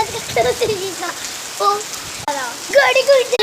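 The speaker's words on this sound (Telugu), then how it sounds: "ఇక్కడ ఇంత వర్షం పడుతుంది" Steady rain hissing on a surface, fairly close, with bursts of speech over it.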